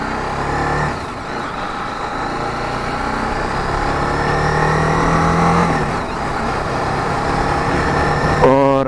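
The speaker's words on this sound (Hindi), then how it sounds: "स्टॉक एग्जॉस्ट भी काफी सही लगता है।" A motorcycle with its stock exhaust, a TVS Apache RR310, idles and revs steadily at close range, loud and continuous, with a brief rise in pitch near the end.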